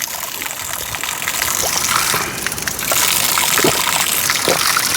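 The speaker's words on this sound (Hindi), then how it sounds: "धारे में भी देखो आजकल खूब पानी बढ़ रखा है।" Water from a village mountain spring gushes and splashes in a steady, close stream, growing slightly louder partway through, with no voices over it.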